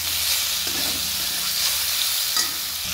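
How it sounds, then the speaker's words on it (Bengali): Salted ridge gourd fries in a pan, a constant close sizzle with soft stirring scrapes and occasional light taps of the spatula. "ভালো করে নেড়ে চেড়ে নিই।"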